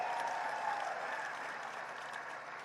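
Audience applause at an outdoor Aam Aadmi Party political rally in Lambi, Punjab: steady, dense clapping from a large crowd, sustained at even loudness throughout and tapering slightly toward the end.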